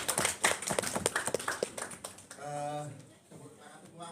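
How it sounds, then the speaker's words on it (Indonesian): A small group at a training and coaching session claps in quick, uneven bursts for about two seconds, then a voice speaks as the clapping fades. "Tepuk tangan semua untuk coaching kita Pak Heri dan Pak Dr. Heri dan Pak Surono ya."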